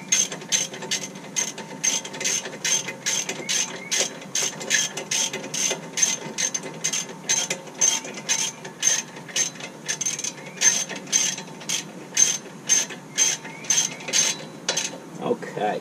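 Hand ratchet tightening a bolt on the brakes of a GMC Acadia, a fast steady clicking run of many strokes, close and loud, lasting the whole stretch with brief pauses between pulls.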